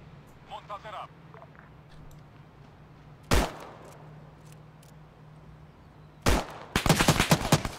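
Arma 3 military simulation gunfire: a single sharp shot near 3.3 s and another near 6.3 s, then a rapid burst of several loud cracks toward the end, over faint background hum and distant chatter.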